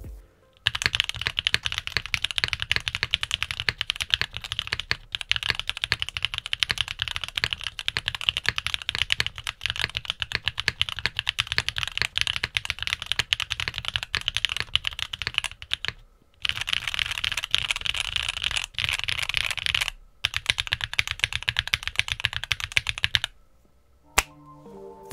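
Rapid, steady typing on a mechanical keyboard with stock Gateron Cream Soda switches, crisp clicky keystrokes close up, pausing briefly a few times before resuming, with no talking.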